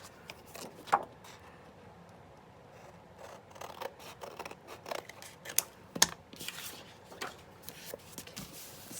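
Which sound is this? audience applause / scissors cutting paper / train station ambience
scissors cutting paper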